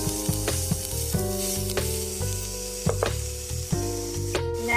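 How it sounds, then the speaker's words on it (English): Minced garlic sizzles steadily in a hot pan, with repeated scraping and stirring knocks from a utensil over the constant frying hiss, close up. "you want to add in your minced garlic. Let that saute for 1 minute."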